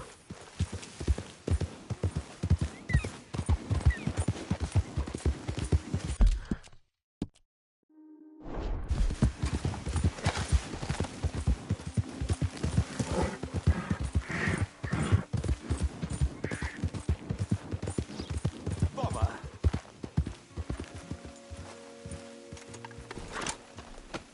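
Horse hooves clip-clopping at a steady riding pace in the video game Red Dead Redemption 2, rapid and continuous with a brief pause midway, plus faint whooshing.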